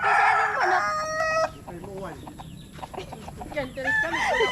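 A rooster crows loudly and close, a long drawn-out call at the start. Softer clucks and chicken sounds follow, then another crow-like call near the end.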